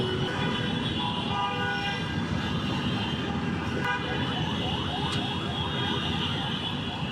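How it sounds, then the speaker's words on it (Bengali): Car horns honk in a Karwan Bazar traffic jam, with many overlapping, sustained blasts close by and continuing without a break over a dense roar of traffic. "এত হর্ন কিভাবে মানুষ দেয় বুঝি না, কি বিচ্ছিরি অবস্থা, হর্নে একদম অস্থির করে ফেলতেছে।"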